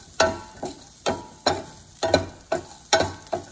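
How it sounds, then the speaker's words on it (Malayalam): Grated coconut roasts with shallots, dry red chilli, pepper and fenugreek in a pan for a Kerala fish curry masala, with rhythmic scraping stirs about every half second over a soft sizzle, close and fairly loud. "തേങ്ങ ഒരു ഗോൾഡൻ ബ്രൗൺ ആകുന്നത് വരെ നമുക്ക് വറുക്കണം"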